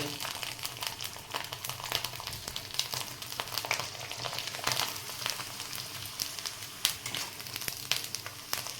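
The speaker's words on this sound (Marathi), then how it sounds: "तेल तापवून घ्यायचं चांगलं आणि त्याच्यामध्ये घालून" Sabudana papad frying in hot oil, a steady faint crackling sizzle with small irregular pops throughout.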